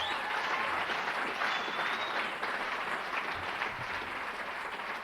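An audience at a recovery convention in Oregon applauds a speaker's story, a steady wash of many hands clapping at moderate distance, continuous throughout with no talking over it.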